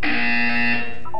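A loud, harsh electronic buzzer in Portal 2 blares in one sustained tone for about a second, then cuts off with a short warbling tail.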